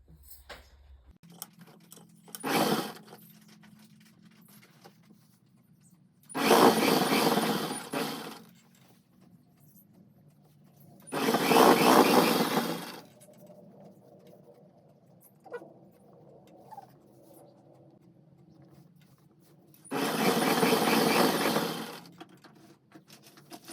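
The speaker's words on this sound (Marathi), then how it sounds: "माझी इथे शिलाई मारून झालेली आहे अशाच पद्धतीने शिलाई मारायची आहे" A sewing machine stitching palazzo pants runs in four separate bursts, each a few seconds long, with quiet handling noises and pauses between them.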